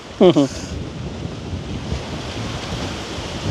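Strong wind roars steadily across the microphone outdoors in a village, a constant buffeting rush filling the whole stretch after a brief voice at the start.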